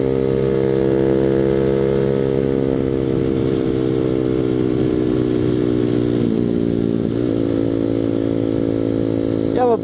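A Grom clone Boom Vader small motorcycle buzzes steadily and loudly while being ridden around, its engine note holding fairly even and then wavering slightly near the end, with wind noise throughout.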